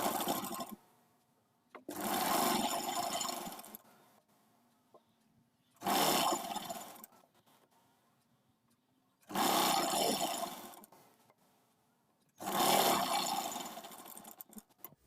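A sewing machine stitches the side seam of a lined kurti in four separate bursts of rapid whirring, each a couple of seconds long. Quiet pauses fall between the bursts, close and clear with no talk.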